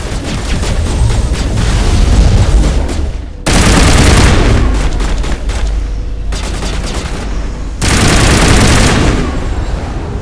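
A firefight in the Mass Effect video game: loud, dense bursts of rapid automatic gunfire in several long volleys, with brief lulls between them and booming impacts layered in.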